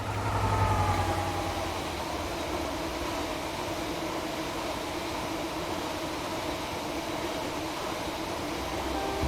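Loaded MGR freight train rolling through Gothland on the Morsfoot to Falkingham line in a railway simulation game, a steady low rumble of wagons with a louder engine drone at the start, continuous and unbroken throughout.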